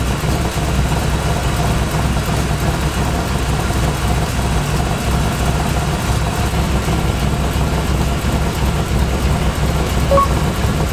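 Chevrolet Impala V8 engine idling steadily after an intake manifold replacement, a smooth continuous low rumble close by with no revving or voices.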